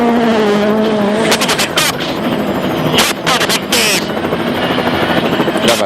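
A helicopter filming a stage of the 2012 Rally Sweden in the WRC, its rotor thrum loud and steady while rally car engine roars and skids burst through, with commentary voices over the top.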